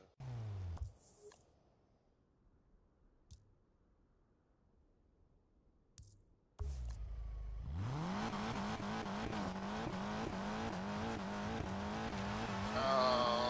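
Race car in Need for Speed Payback, after a quiet start, roars to life and drives off-road, engine revving up and down steadily and loud with rising, falling pitch.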